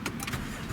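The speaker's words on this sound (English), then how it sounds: "I'll go ahead and start up the car." 2017 Honda Accord Coupe with a V6 engine starting, a brief burst of starter and engine noise that settles into a steady low rumble, heard close inside the car.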